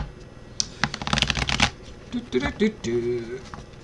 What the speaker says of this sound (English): Let's get these cards shuffled and see what we're doing.